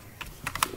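A few quick, light clicks of keys being typed on a computer keyboard, close and brief with nothing else audible.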